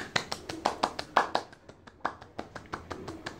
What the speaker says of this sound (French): Félicitations, on l'applaudit.